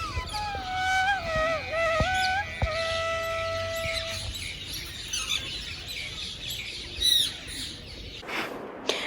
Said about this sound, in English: the peaceful environment is harmoniously complemented by the gentle melodies of the